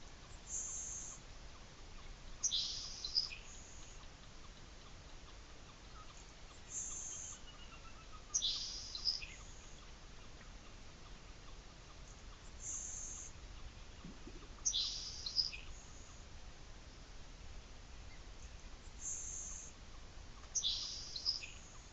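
Faint, distant high buzzy songs of LeConte's and Nelson's sparrows in a marsh repeat every few seconds over a steady low hiss of background noise, with no talk.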